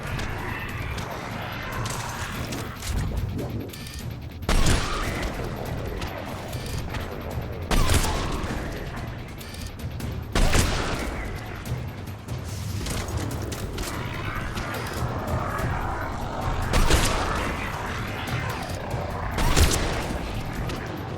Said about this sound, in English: this gun one-shot headshots, even without going into stealth